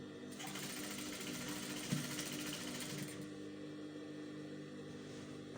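A sewing machine runs steadily while stitching the seam of a cowl bubu kaftan gown toward the hem, a continuous close whirring hum that stops abruptly near the end, leaving a quieter room tone.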